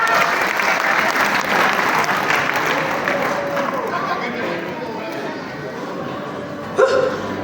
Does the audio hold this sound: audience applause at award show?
yes